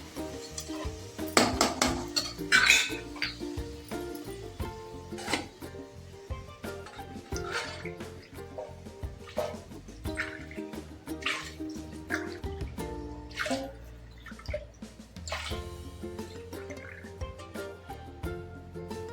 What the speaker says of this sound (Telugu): నాలుగున్నర వాటర్ పోసుకున్నామండి